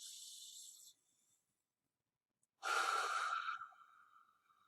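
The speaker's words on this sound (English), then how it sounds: "you breathe in for four," Slow breathing exercise: a long soft breath, a pause of silence, then a fuller audible exhale with a hissy, airy rush that trails off, close and quiet.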